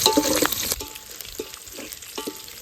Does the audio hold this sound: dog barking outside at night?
no